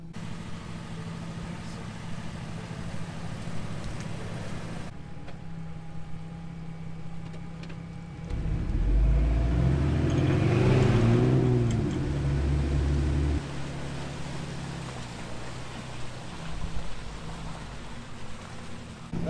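A 2WD Ford truck pulled free of mud idles and then drives off with a rising, rumbling engine swell in the middle before settling back to a steady idle, heard outdoors at moderate distance.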